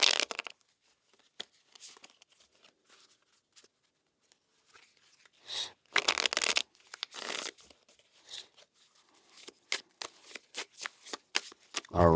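Cards are shuffled in repeated crisp riffling bursts, close by, with quiet pauses between them and a louder flurry near the end.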